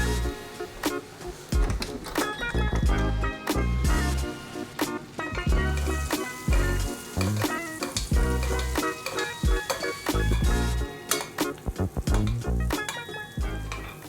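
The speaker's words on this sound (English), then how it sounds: "And now you want to keep it in this butter, slowly cooking." Cauliflower steak frying in a pan of hot butter, sizzling loudly and steadily with spitting crackles and occasional stirring or basting clatter, close up with no talking.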